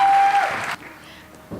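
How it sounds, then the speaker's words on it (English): Applause from an audience greeting a young Australian speaker at a Sony event, a loud burst of clapping that fades off quickly after less than a second. "with a great round of applause for this very fine young Australian"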